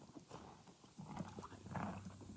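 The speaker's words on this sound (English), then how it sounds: "You're a horse." A horse walks nearby outdoors on grass, its hooves clip-clopping in an uneven rhythm, with soft rustling and shifting between steps and no talking.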